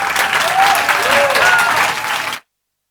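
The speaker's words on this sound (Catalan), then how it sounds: "Un fort aplaudiment, si us plau, per ella." An audience greets a speaker with strong applause at the opening ceremony of a Catalan book week: dense, loud clapping that continues for a couple of seconds and then cuts off abruptly.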